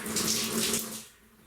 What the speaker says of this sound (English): So, I'll get some water going.